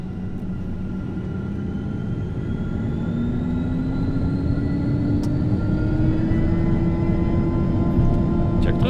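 A Falcon 900 three-engine private jet accelerates on its takeoff roll, heard from the cockpit as a loud steady engine roar with a whining tone slowly rising in pitch, with occasional faint cockpit voices.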